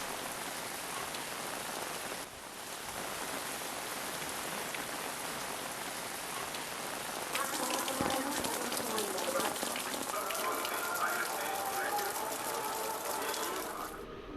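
Steady rain falls on surfaces in a constant dense patter, briefly dipping and then growing heavier and louder partway through, with voices faintly under it.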